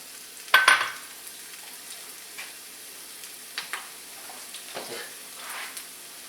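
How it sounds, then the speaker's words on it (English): Slivered onion sizzles in canola oil in a frying pan, crackling softly after a sharp clatter as it hits the pan, with scattered hisses and pops continuing quietly. "I'm just going to sizzle it up here in a little"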